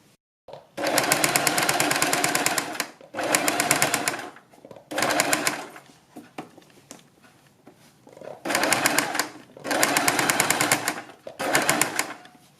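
A sewing machine stitches the neckline of a dress in five or six loud, steady runs of rapid stitching, separated by short quiet pauses.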